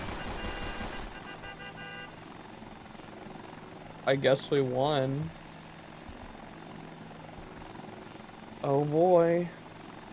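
A helicopter's rotor and engine in the video game Tactical Intervention drone steadily for a couple of seconds, then fade out; later, voices speak briefly over a quiet background.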